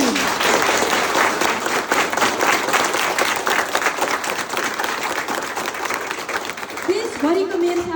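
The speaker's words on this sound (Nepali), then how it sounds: "एकपटक ससम्मान जोरदार ताली।" An audience bursts into loud, sustained applause, dense clapping rolling on evenly throughout, with a voice breaking in briefly near the end.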